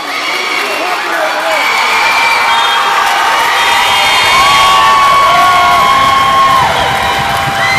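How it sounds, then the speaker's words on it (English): A packed gym crowd at a Finney vs Northstar high school basketball game roars and cheers steadily and loudly throughout, with shouts and whoops rising in a dense, continuous wall of noise. "And the crowd is going crazy as the team comes back on the court."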